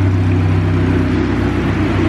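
A turbocharged Honda Civic with a B16 engine runs hard on a dyno, a loud, dense, sustained engine roar that holds steady without a break and sits close and alone.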